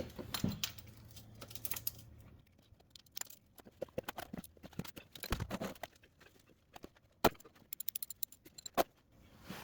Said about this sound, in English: now I'm going to loosen this bolt on the oil pan